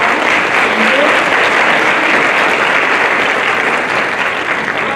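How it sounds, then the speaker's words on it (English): A round of applause fills the hall at a 2022 National Honor Society ceremony, loud, dense and steady from start to finish, with murmurs of a crowd beneath. "If we can give a round of applause"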